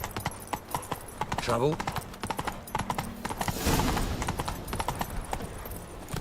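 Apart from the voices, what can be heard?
horse Roach galloping in video game The Witcher 3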